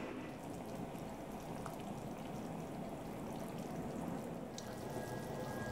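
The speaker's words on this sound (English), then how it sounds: "I might have to drain some of that water" Excess water is poured off a pot of chicken being cooked for chipotle chicken tinga, a steady, continuous splashing stream that runs unbroken throughout with no talking.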